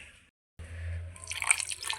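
Water is poured into a dry apricot chutney in a grinder jar, a soft close splashing and trickle after a brief silence, faint and with no talk.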